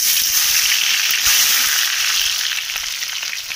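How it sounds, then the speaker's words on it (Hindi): Onions frying in hot oil in a heated wok (kadhai), giving a steady, loud, close sizzle that eases off slightly near the end, with no talking. "अभी प्याज डालेगा"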